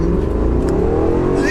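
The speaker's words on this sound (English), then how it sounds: "Listen to that engine." A car engine revs hard and climbs steadily in pitch during a 20-to-70 mph acceleration run, loud and close from inside the cabin, with voices talking over it.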